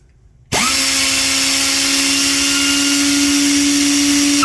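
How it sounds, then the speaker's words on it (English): A pneumatic right angle die grinder rated at 4 CFM starts abruptly after a short quiet moment and runs at a loud, steady high-pitched whine with a constant airy hiss, close by and alone. "Now we'll look at right angle, very conventional, very common right angle die grinder."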